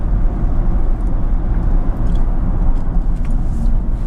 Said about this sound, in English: Brakes on the vehicle, just wait till I get around the corner to give them a bit of a shove.